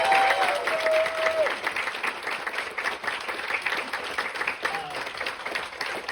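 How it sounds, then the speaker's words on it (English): A live theater audience at an anniversary screening Q&A for Silent Night Deadly Night breaks into sustained applause, a dense wash of clapping that holds steady for the full stretch, with a brief voice heard near the start. "let's give him a big round of applause"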